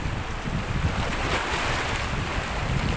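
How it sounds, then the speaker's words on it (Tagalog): Powerful surf pounding a rocky shoreline formation in Batangas City, a loud unbroken wash of crashing water blended with strong wind noise. "Bali po talagang sobrang lakas po talaga ng mga alon, no?"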